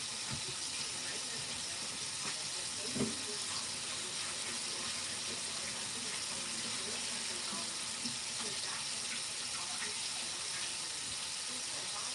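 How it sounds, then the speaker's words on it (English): Running tap water splashes steadily into a sink while a spoon is washed, a continuous broadband hiss with a few small clinks, close by and fairly loud throughout. "Now I gotta wash my spoon."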